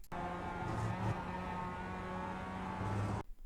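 Mazda MX-5 engine pulling hard under throttle in the iRacing simulator at Oran Park South, a steady close buzzing drone that holds for about three seconds before cutting off abruptly.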